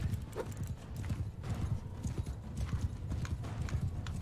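An armoured horse gallops in the video game Mount & Blade II: Bannerlord, a steady, fast clip-clop of hooves that carries on throughout with no voices.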